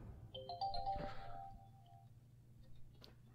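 A mobile phone rings in the game Fallout 4 with a short electronic ringtone melody of a few quick tones, fairly soft, followed by faint ticking and a brief click.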